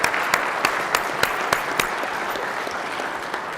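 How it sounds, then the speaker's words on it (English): A room full of people on a state Senate floor claps steadily in sustained applause, with sharp individual claps standing out from the dense patter. "give a round of applause to my amazing staff"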